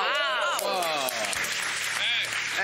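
Applause from a studio audience on a dating show rolls on beneath an excited voice talking over it, steady clapping filling the background for a few seconds.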